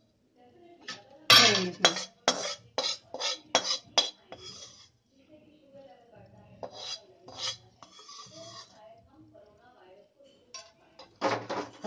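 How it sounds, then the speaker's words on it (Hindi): Metal dishes and utensils clink and scrape sharply in a kitchen as roasted gram flour is moved onto a plate, a quick run of close clattering hits, then a pause, then more, with a few spoken words. "अब इस बेसन को ठंडा करने के लिए अपन एक प्लेट में निकाल लेंगे"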